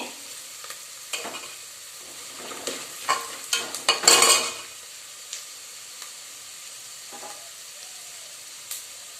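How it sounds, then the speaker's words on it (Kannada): Chickpeas and cumin sizzling in a pan as they are stirred, a soft frying hiss broken by scraping spoon strokes and one brief louder burst of crackle midway. "ಸ್ವಲ್ಪ ಜೀರಿಗೆ ಹಾಕ್ತಾ ಇದ್ದೀನಿ"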